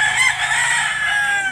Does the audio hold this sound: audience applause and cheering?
no